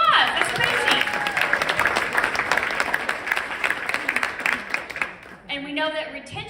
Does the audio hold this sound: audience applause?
yes